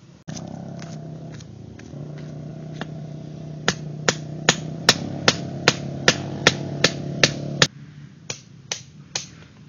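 Rock plates being broken off and pried loose for geology samples, a series of sharp, evenly spaced cracking knocks over a low rumbling background, close and fairly loud.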